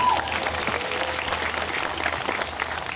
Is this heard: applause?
yes